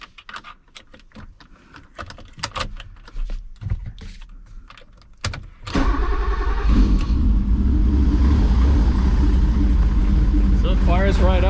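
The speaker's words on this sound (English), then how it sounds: "I'll fire up the car for you." A 1986 BMW M635 with a Dinan turbo engine is heard after several seconds of clicks and handling noises: the engine cranks and catches abruptly, then settles into a loud, steady idle up close.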